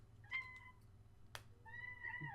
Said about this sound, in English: Kitty goes meow.